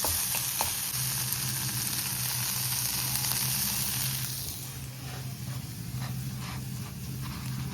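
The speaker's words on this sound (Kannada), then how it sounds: "ಪನ್ನೀರ್ನೇನು ಜಾಸ್ತಿ ಹುರ್ಕೋಬೇಕಾಗಿಲ್ಲ, ಒಂದು 2 ಮಿನಿಟ್ಸ್ ಒಂದು ಸ್ವಲ್ಪ ಹುರಿದ್ರೆ ಸಾಕು" Paneer fries in a pan with cooked tomato and onion while vada pav is being made, giving a dense, steady sizzle with occasional stirring scrapes and a constant background hum.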